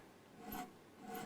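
A file rasping across metal fret ends on a bolt-on-neck Les Paul copy guitar, two short faint scraping strokes, close and quiet.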